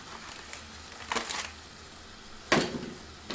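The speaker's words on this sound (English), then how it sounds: "Some saran wrap." Plastic cling wrap handled up close: a few short crinkling rustles in two or three separate bursts, with quiet pauses between them and no speech.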